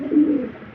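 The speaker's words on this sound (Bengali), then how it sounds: "একদম ধবধবে সিলভার রেসার কবুতর" A single short, soft coo from a snow-white silver racer pigeon sounds close and alone.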